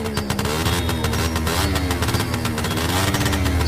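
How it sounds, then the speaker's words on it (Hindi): Cartoon scooter speeding away at high speed, a continuous buzzing engine whine with a slightly wavering pitch, loud and alone. "वो अपने स्कूटर को वहाँ से 180 के स्पीड में भगाता है।"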